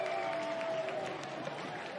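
Duke fans at a men's college lacrosse game cheer in an away arena, a steady roar of crowd noise with a sustained whistle-like tone early on, fairly loud and continuous.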